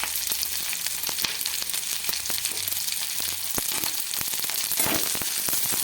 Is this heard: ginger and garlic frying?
yes